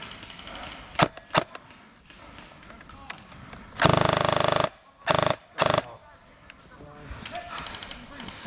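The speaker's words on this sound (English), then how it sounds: "This P90 is absolutely sick and full auto." A P90 airsoft gun fires on full auto at an airsoft field. It rips out three loud, close bursts, one long and two short, among scattered clicks and thuds while people talk nearby.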